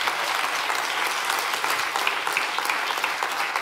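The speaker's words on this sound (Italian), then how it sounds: "volete fare un applauso al Signore?" A church congregation applauds during an Italian worship service, with dense, steady clapping from many hands filling the room at an even level throughout.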